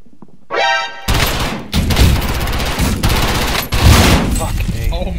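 Loud, close bursts of rapid gunfire from the video game Warzone, several sustained volleys separated by brief gaps, with voices mixed in.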